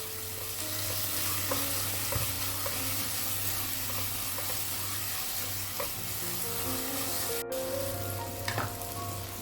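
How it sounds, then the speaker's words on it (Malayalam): Ginger, garlic and green chili are sautéed in a pan, with a steady close sizzle and frying hiss and a few stirring scrapes, and nobody speaks. "ഇത് നന്നായിട്ടൊന്ന് മിക്സ് ചെയ്തിട്ട് ഇഞ്ചിൻ്റെയും പച്ചമുളകിൻ്റെയും ഒരു പച്ചമണം മാറുന്നത് വരെ ഇത് നമുക്ക് വാട്ടിയെടുക്കാം"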